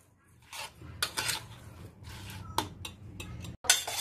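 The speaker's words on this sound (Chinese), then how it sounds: "然后请你用汤匙把它拌一拌，把它搅拌一下" A spoon clinks and scrapes against a bowl while stirring cucumber salad, giving irregular light taps and rubbing scrapes at close range, fairly quiet.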